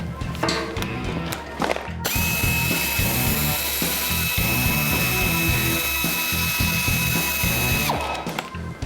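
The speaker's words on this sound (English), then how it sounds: "Let's have the ratchet." Power tool or ratchet work on a car in a home garage, a steady loud mechanical whir running for about six seconds between shorter bursts of clanking and rattling.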